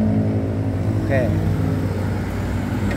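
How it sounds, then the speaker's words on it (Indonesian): A custom BMX-style motorcycle fitted with a KMJ racing exhaust and a rear disc brake idles with a steady, close, low engine rumble, and someone briefly speaks over it. "ini juga knalpotnya juga nih, racingan nih dari KMJ nih"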